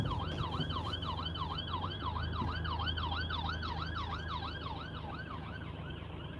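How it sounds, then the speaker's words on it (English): A police or ambulance siren wails steadily nearby on a UK road between Stalybridge and Wigan, rising and falling in a fast regular cycle over the low rumble of traffic. "there's a police car trying to turn, or an ambulance trying to turn right"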